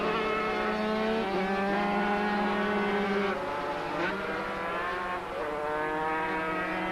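500cc racing motorcycles at the 1985 ARRC run at full race speed, a sustained high-pitched engine wail with shifting harmonic pitch, loud and continuous throughout.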